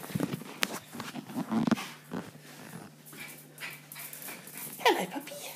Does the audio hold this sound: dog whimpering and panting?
yes